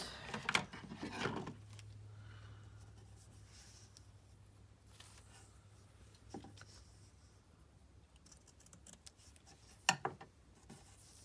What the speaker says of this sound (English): Then I'll get the scissors.